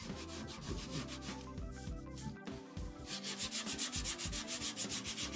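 A wooden chisel handle being smoothed by hand sanding, with scratchy rubbing strokes that settle into a steady back-and-forth rhythm, close and fairly quiet, with no talk.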